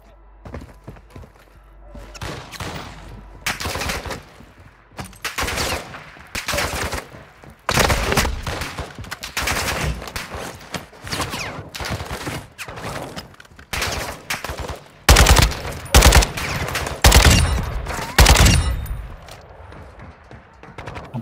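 Gunfire in the Call of Duty DMZ video game: repeated loud bursts of automatic fire and single shots in clusters, near and heavy, with brief gaps, while players talk faintly underneath.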